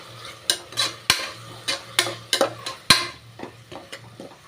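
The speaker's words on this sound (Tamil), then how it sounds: "பட்டாணி லைட்டாக எண்ணெயிலே நல்லா வதங்கி வரட்டுங்க." Green peas sautéing in oil for coconut rice are stirred in the pan with a utensil, making about a dozen irregular, close scraping clacks and taps over a soft sizzle.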